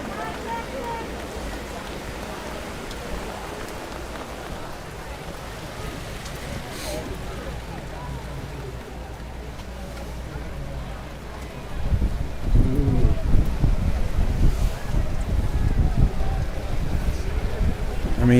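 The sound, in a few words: heavy rain at a football game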